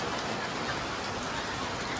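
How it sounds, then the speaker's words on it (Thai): Steady rain pours down over a large open market, a dense, even hiss of drops hitting surfaces with no breaks, no voices and no thunder. "ฝนตกเลย"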